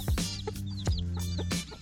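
A mother hen clucks close by with her chicks in cold weather, giving a few short, throaty clucks mixed with thin, high chirps.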